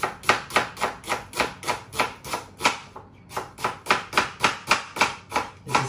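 Red onion chopped on a board at a camping cookout, with steady, even knife strikes about three per second, close and crisp, and one short pause in the middle.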